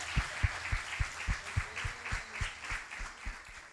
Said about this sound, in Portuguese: Uma salva de palmas ao nosso Senhor Jesus.